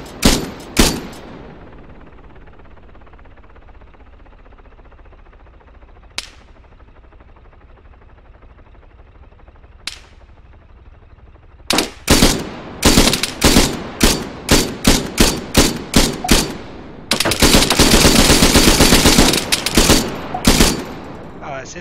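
Loud bursts of rapid machine gun fire in the video game Arma 3, with isolated shots early on, then repeated volleys and a sustained continuous burst near the end.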